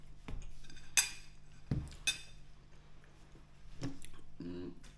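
Cutlery clinks and scrapes against a dish during a breakfast of cooked rice, banana and peanut butter, with a few sharp close taps spread irregularly over a quiet background and faint chewing.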